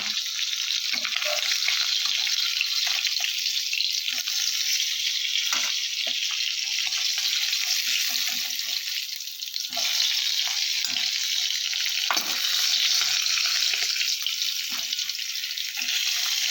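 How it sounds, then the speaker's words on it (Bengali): Bata fish fry in hot oil with a loud, dense, continuous sizzle, close and steady, broken by occasional soft clinks and stirring noises. "বাটা মাছগুলো দিয়ে দিলাম তেলের মধ্যে"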